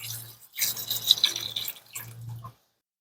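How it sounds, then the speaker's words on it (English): Vinegar pours over rusty metal garden tools in a container, a close liquid splashing and trickling in three short bursts with brief pauses, ending abruptly in silence. "We put the vinegar up to the metal parts so that it will cover all the metal parts."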